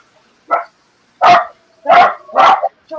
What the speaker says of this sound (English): It's hard to tell who's barking.